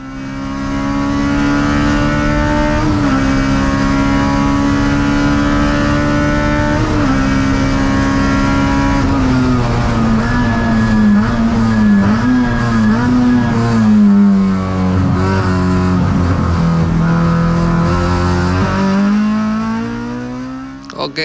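A race car in the Sepang 300 km endurance race circling the track, its engine droning loud and steady with repeated revving shifts and pitch swings through gear changes, continuous from close onboard.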